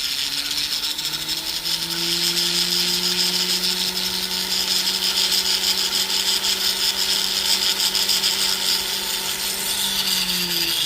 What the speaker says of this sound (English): I prefer using black, which is kind of like a medium grade silicone wheel, to smooth the rings out